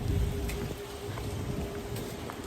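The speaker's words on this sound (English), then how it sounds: "Oh my God, it's still raining." Steady rain falls outdoors during a power blackout, making a continuous soft hiss and patter of drops with no voices.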